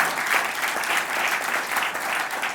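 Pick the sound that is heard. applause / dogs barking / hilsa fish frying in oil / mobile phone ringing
applause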